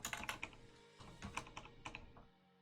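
Fingers type on a computer keyboard while shell commands are entered, producing quiet, irregular bursts of clicky keystrokes with brief pauses between them.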